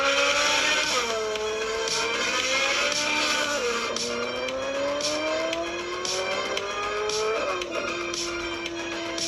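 A Ferrari drives past with BBS alloy wheels fitted, its engine note rising and falling through gear changes in a loud, steady roar, heard through a phone speaker with a faint rattling texture and no talking.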